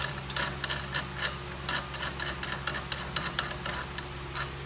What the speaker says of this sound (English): Remove our tassel nut.